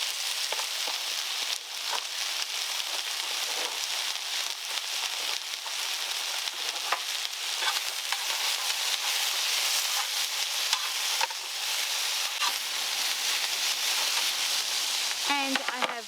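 Chicken and half a red onion fry steadily in a pan at a campsite, a dense constant sizzle with soft stirring scrapes and a clink near the end, no one talking.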